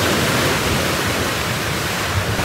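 Sea water and waves surging near a beach camp, a dense continuous wash of surf and rushing water filling the whole moment, loud and close with no voices.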